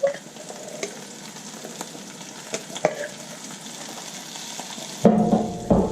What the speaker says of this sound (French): je vais mettre mes petits pois dans ce mélange d'épices et l'huile